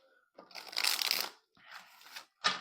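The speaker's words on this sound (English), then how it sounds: "I like when the cards like shuffle perfectly" Tarot cards shuffle in quick riffling bursts, three separate flurries with short pauses, close and fairly quiet, with no talking over them.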